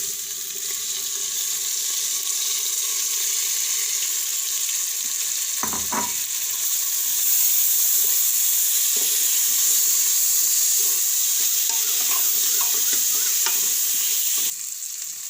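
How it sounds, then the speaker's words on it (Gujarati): Cooked moong chhadi dal khichdi goes into a hot tempering of ginger, chilli and garlic: a steady bright sizzle, a clatter as the rice drops in, then louder frying and stirring until a sudden stop near the end. "હવે આપણે આ ખીચડી નાખી દેવું."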